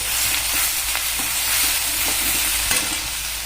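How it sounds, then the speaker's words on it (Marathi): Chopped coriander, ginger and garlic sauté in hot oil over a wood-fired stove, a loud, close, steady sizzle broken by rhythmic stirring clinks and scrapes, with no talking. "चिचून घेतलेली कोथिंबीर, आलं, लसूण टाकूया. हे तेलामध्ये छान असं परतल्यानंतर"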